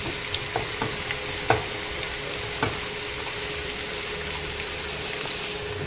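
Sliced onions fry in hot oil until golden, a steady close sizzle with scattered small crackles and pops throughout, no voices.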